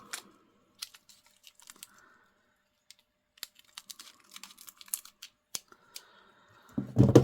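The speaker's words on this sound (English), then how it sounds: "grab my scissors" Sparse sharp scissor snips and clicks close by, scattered irregularly, followed by a louder rustling burst at the end as a plastic bag is cut open and handled.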